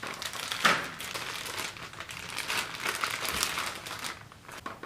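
Paper wrapping crinkles and crumples steadily as it is pulled off a car sway bar, a continuous close rustling with brief sharper tears and no talk.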